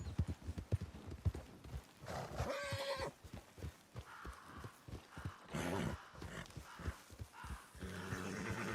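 Steady clip-clop of horse hooves at a walking pace, close by, with a brief whinny and soft rumbling in the background, from the video game Red Dead Redemption 2.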